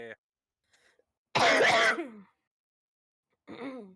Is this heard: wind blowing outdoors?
no